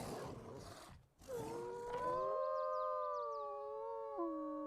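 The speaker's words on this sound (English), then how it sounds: "You can still hear the ghost of his direwolf." The ghost of a direwolf in the Ark Ascended video game lets out a long, eerie howl, rising and sustained with layered tones, following a short burst of rustling ambience; no one speaks.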